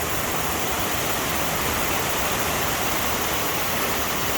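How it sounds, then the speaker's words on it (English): A creek flows through mountain forest past a tall tree, its water rushing in a steady, loud, broadband wash that stays constant and close for the whole stretch, with no voices. "this creek just flows through it"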